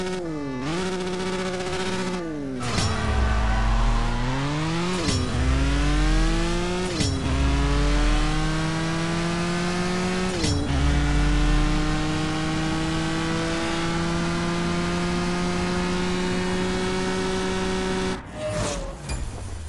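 A race car engine in CSR Racing 2 revs hard through a drag race, climbing in pitch with each run, dropping briefly at every gear shift, then idling at the finish, loud and up front with no speech.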